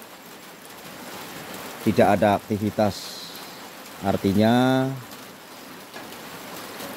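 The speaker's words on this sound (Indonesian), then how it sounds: "turun hujan ini" Steady rain falls over farmland at UPT Sepunggur, a constant soft hiss running throughout, while someone speaks over it for a few seconds.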